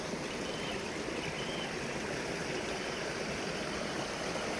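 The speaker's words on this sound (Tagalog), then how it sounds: "Yan yung tubig mga idol, oh. Dumadaan sa ilalim ng malaking bato." A stream rushes beneath a large rock in a steady, dense wash of flowing water, continuous and fairly close, with no voices.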